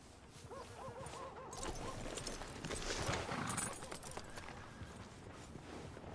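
A horse's hooves clip-clop steadily in Red Dead Redemption 2 against a busy background of ambient game sound, with no clear voices.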